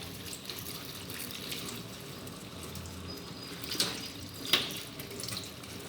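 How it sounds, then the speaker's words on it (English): Scent leaf is rinsed under a running tap, making a steady, close rush of water splashing into a sink, with a couple of brief sharper splashes as the leaves are moved about in the stream. "Now you're equally going to be washing the scent leaf"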